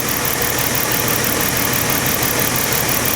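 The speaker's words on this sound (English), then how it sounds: "Now I'm going to raise the idle here a little bit," A Lincoln LS engine running lean idles steadily and loudly up close, a constant even hum with no talk over it.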